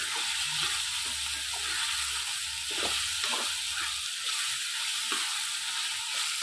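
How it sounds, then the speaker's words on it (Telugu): Onion paste sizzles and fries in hot oil for a potato and mango curry, a steady close crackling hiss with soft stirring scrapes, no talking. "ఇవి ఆయిల్లో ఉడికితే మనకి అవి కూడా పేస్ట్ లాగా తయారవుతాయండి"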